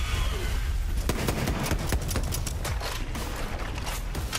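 A cryo weapon that fires shotgun shells in Borderlands 3, sounding as a rapid string of sharp, loud shots in quick succession, close and punchy with no talk over it.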